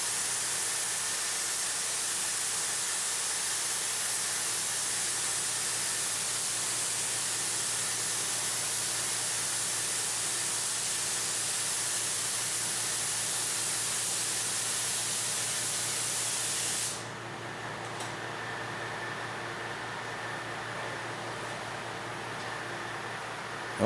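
Spray gun hissing a continuous, even blast of EkoPoly paint onto an aircraft wing, a broad airy rush that holds steady for about seventeen seconds before dropping to a quieter, thinner hiss.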